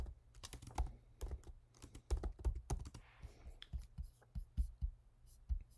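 Fingers tap quick, irregular bursts of keystrokes on a computer keyboard, close and fairly quiet, with short pauses between clusters of clicks.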